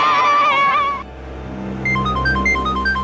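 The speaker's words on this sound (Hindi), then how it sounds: "अरे वो सीआईडी वालों को फोन आ रहा है" A phone rings with a steady, repeating electronic tone, heard close and loud over a low background rumble, with no voices.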